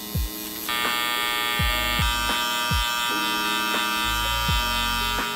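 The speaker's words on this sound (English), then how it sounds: "Uno shaver, because it's a lot smaller" An electric shaver buzzes steadily up close, its motor pitch dipping and recovering repeatedly as it presses and trims.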